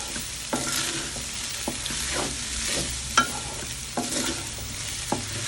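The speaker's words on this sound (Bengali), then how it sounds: "নাড়াচাড়া করে ভাজা করছি।" Indonesian nasi goreng with shrimp and plain rice being stir-fried in a pan, with a steady oily sizzle and repeated scraping, clattering spatula strokes at an irregular pace, close and moderately loud with no talk.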